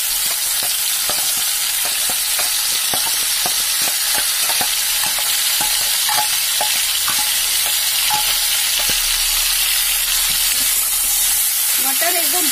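Masala paste of coriander, cumin, ginger, garlic, onion and tomato fries in a pan for a pumpkin and pea dish, a dense, steady sizzle broken by frequent scraping stirs, close and without talk.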